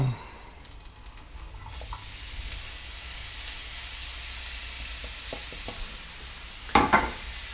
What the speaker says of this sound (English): Let's see if it's gonna sizzle